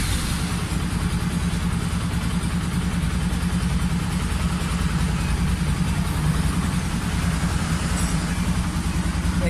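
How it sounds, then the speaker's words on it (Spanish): A Bajaj Pulsar 200 NS motorcycle engine idles steadily with a low, rumbling putter that stays constant and fairly loud throughout, no voices present. "Vamos a encender la moto"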